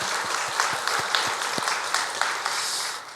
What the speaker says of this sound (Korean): 우리 수고하신 분들에게 감사하다고 박수하겠습니다.